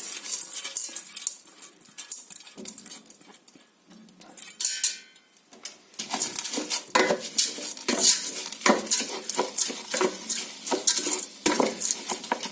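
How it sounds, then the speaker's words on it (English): Lentils tumble into a metal pot for majadra, followed by scraping and clattering as a spoon stirs them with rice, irregular close knocks and rattles, no speech. "I'm going to add the lentils."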